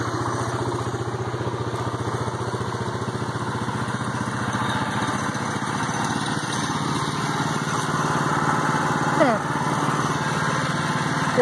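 A stuck golf cart's small engine revs steadily with a buzzy, droning tone, loud and close throughout with little change, rising slightly near the end.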